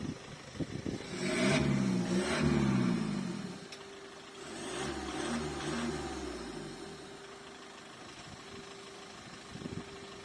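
A 2014 Audi A3 1.6 diesel automatic engine revs up twice, rising and falling in pitch, then settles back to a low, steady idle.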